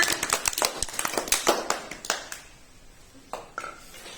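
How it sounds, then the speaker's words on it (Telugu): Children clap their hands at a school science activity on floating and sinking objects, a brisk round of applause that fades into a few scattered claps. "give claps to సరంజా"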